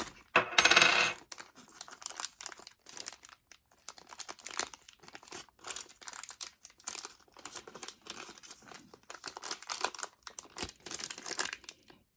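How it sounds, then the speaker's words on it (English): Stiff plastic packaging from a Hasbro Beyblade Burst Surge Speed Storm stadium set crinkles and crackles as it is pulled open, a burst of close rustling followed by repeated irregular crunches and tearing sounds. "Plastic is sometimes stubborn sometimes for me when I'm opening them up."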